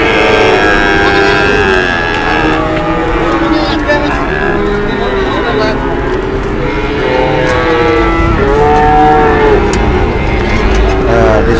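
Cattle low repeatedly and loudly while being unloaded from a pickup truck at the Kedondong cattle market in Nganjuk, East Java, long drawn-out moos overlapping against a steady crowd and engine background.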